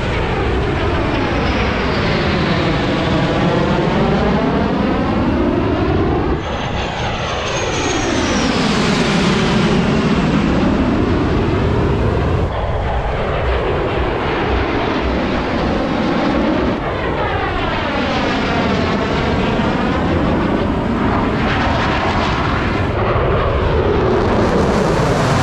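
F-16 Thunderbirds jets roar low overhead at the 2022 Pacific Airshow, several loud passes sweeping in and out with deep engine rumble and shifting whine, very close and overpowering.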